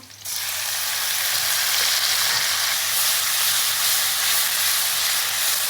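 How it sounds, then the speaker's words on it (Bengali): Spices sauté in a pan on a clay stove, a loud, constant hissing sizzle that swells up within the first moment and then holds steady and close, with no voices. "আমি এখন মশলা দিয়ে একটু কষাবো"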